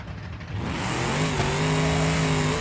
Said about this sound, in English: here comes the nitrous